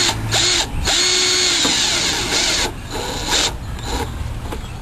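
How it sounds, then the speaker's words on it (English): A power drill whirs in several close bursts, its motor pitch shifting as it drives screws while assembling a RainStation, with brief pauses and clicking between runs. "You may want to lower the torque setting on your drill"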